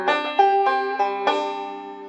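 A banjo plays a short picked roll in the style of a TV theme, several bright plucked notes ringing one after another at an even, unhurried beginner's pace, close and clear.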